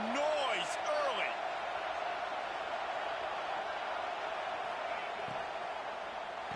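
A stadium crowd roars in a college football video game with Florida Gators, making a steady, broad, even wash of noise. A few short squeaks sound near the start.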